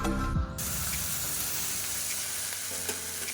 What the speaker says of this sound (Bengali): তো কালো জিরা দিয়ে শুকনো লঙ্কা দিয়ে দিয়ে দিলাম